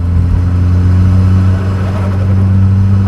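A 1.8T big turbo car engine drones loudly and close with a slipping clutch, a steady held rev with a strong low hum and no talking.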